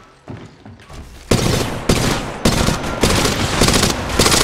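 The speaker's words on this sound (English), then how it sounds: "Opening fire. Yeah, getting shot at." Sustained automatic gunfire in Apex Legends Mobile rattles loudly in continuous bursts, starting softly and then surging into heavy, close volleys with sharp onsets, with no talking over it.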